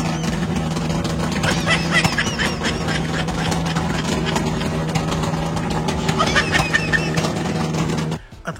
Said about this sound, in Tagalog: habang nagbobombahan nga ang mga motor